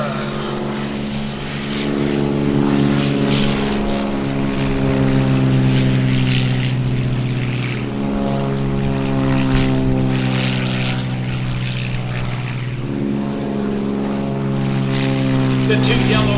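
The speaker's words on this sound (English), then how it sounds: "this is the Beechcraft T-34 Mentor." A Beechcraft T-34 Mentor propeller trainer flying at the Greenwood Lake airshow, a loud steady droning engine with rising and falling pitch as it passes, under an announcer's voice.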